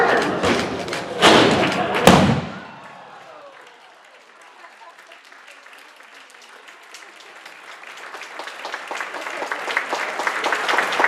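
A large embassy wall being pushed over by a group at an outdoor ceremony, with heavy thuds and crashing breakage up front, then cheering and clapping from the crowd that builds toward the end.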